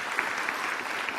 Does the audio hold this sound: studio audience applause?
yes